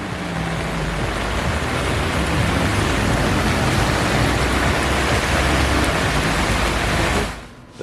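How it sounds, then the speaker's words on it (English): Heavy rain pours down on a Seoul street, a dense, loud, unbroken hiss of drops on pavement that keeps going until it fades away abruptly at the very end. "the rain has lessened up ever so slightly"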